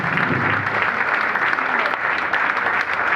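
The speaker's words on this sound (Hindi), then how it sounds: "एक बार अपने लिए जोरदार तालियां।" A loud, dense burst of clapping from a large audience at a group business presentation, a continuous roar of hands at full strength from start to finish with no speech over it.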